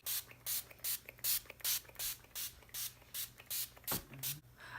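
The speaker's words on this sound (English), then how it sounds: "I'm going to set my entire face using the Urban Decay All Nighter Spray." A pump bottle of Urban Decay All Nighter setting spray mists onto a face in quick bursts, roughly ten short hissing sprays in a steady rhythm, close to the microphone.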